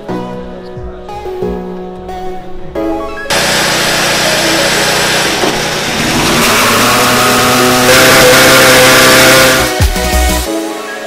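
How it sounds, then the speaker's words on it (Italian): A Formula 1 car engine fires up after a quieter start, building into a loud, sustained roar with rising revs before cutting off abruptly. "Adesso aspettiamo che accendano il motore."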